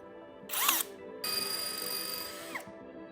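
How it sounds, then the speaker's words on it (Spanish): A drill boring an 11 mm central hole in a part for a homemade hydrogen generator, heard as two moderate bursts of high-pitched whining, one short and one longer, with no talking. "Ahora debemos perforar el agujero central con una broca de 11 milímetros de diámetro."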